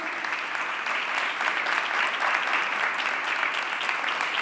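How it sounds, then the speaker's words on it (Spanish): Audience applause for four guests at a Getafe crime-fiction event, steady dense clapping filling the whole stretch without pause. "Un gran aplauso para nuestros 4 invitados."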